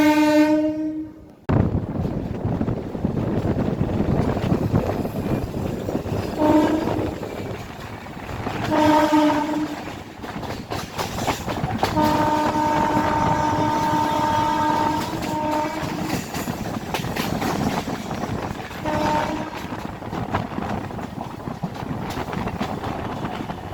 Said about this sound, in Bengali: আমাদের এই ট্রেনটি পলতা স্টেশন থেকে কিন্তু ছেড়ে বেরিয়ে যাচ্ছে